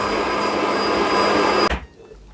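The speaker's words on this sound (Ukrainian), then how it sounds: "Додаємо потужності і збиваємо далі." Electric mixer whipping Italian meringue at higher speed, a loud steady close-up whirring drone that cuts off abruptly near the end, leaving quiet room sound.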